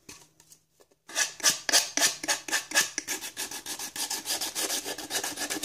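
Sandpaper rubs back and forth over a handmade Christmas decoration, a quiet pause giving way to steady, close rasping strokes in a quick regular rhythm with no talking.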